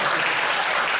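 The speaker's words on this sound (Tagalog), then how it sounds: "Palakpak naman dyan!" Loud, full applause from a large audience at a talk on performing arts and good governance, a continuous dense roar of clapping heard up close without any voices.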